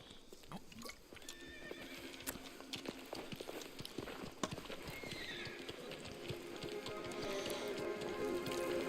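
Rhythmic clip-clop of horse hooves trotting steadily in the video game Mafia: The Old Country, with a horse whinnying, set against a soft rain-like background.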